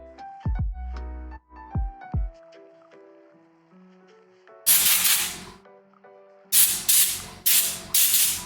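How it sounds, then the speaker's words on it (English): An air-compressor-powered spray gun lets out bursts of loud, broad hiss, first one longer blast and then three shorter ones in quick succession. Earlier, clanking hits and tonal ringing sounds come before the spraying. "Probably should let my air compressor catch up."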